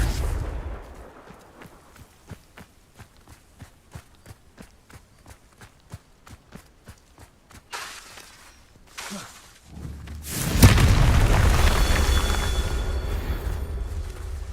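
Confringo blasting spell fired in a video game: a loud, sudden explosive burst erupts after a stretch of rhythmic running footsteps, followed by sustained roaring debris noise.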